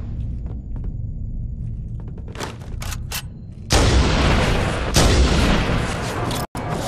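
Halo 1 gameplay brings a heavy boom of a rocket launcher firing, followed by a loud, sustained blast-like roar and rumble from close by, after a few sharper cracks of other gunfire.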